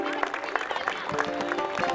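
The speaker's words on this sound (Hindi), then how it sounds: "तालियां छोटे छोटे बच्चों के लिए।" An audience applauds small children after their performance, a steady, busy clatter of many hands with a few voices and tonal background sound mixed in.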